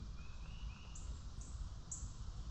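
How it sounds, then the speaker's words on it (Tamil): Small birds, sparrow-like songbirds outdoors in America, give a few faint, thin chirps and short whistled notes spaced apart over a quiet, low background hum. "நீங்கள் அந்த குருவி சவுண்டு கேட்டுக்கோங்க."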